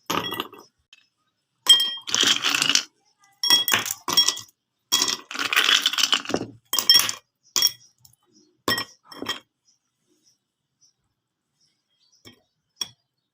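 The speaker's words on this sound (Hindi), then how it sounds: "अब ये बर्फ़ हम डालते हैं अपने गिलासों में।" Ice cubes clatter and clink into drinking glasses in several quick bursts, bright glassy knocks separated by pauses, tapering to a few faint clicks, poured for a jaggery sharbat.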